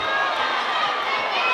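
Boxing crowd cheering steadily at an arena in Phoenix, Arizona, during the fourth and final round of a pro bout, a dense continuous roar with no breaks.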